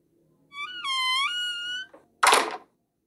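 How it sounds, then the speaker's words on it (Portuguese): Wind pushes a door until it bangs shut: a rising creaky whine holds for over a second, then one loud slam follows after a short gap. "Agora ouça o som dessa porta batendo pela ação do vento."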